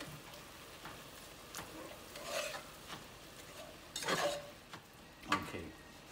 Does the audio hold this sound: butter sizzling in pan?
yes